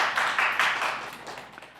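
A congregation claps during a Sunday church service, a short burst of clapping that swells quickly and then fades away within a couple of seconds.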